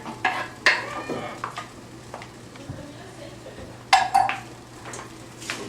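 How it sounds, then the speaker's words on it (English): A spoon stirs a corn and cheese mixture simmering in stock in a pot, with scraping strokes and a few sharp clinks against the metal rim over a soft background bubble. "Give it a little stir."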